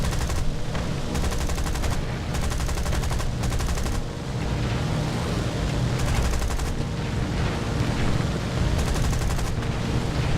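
Continuous rapid aircraft cannon fire from War Thunder, with a Gloster Gladiator Mk II, loud and relentless, with dense rattling bursts layered over a noisy roar of engines.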